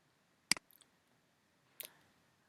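A computer mouse clicks once sharply, followed by a few faint ticks and then another pair of light clicks, close and alone against near silence.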